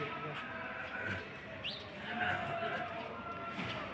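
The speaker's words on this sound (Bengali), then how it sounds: "এই যে পাখি, হাজার হাজার পাখি" A large flock of birds roosting in a tree gives off a busy mass of chirps and calls, with thin whistles rising above a steady, dense background hum throughout.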